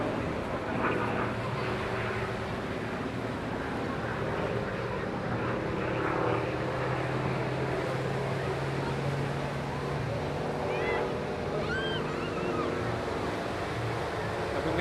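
Restored warbird aircraft flying at a seaside airshow, its engine roar a steady distant rumble that rises and falls slightly, with wind noise and a commentator speaking over it.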